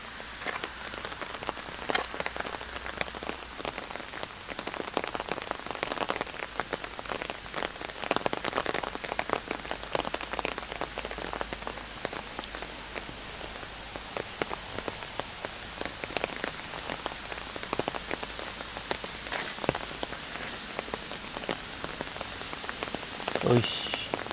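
Summer rain falls steadily on surfaces outdoors, a dense continuous patter of drops with scattered louder taps and a faint insect drone beneath.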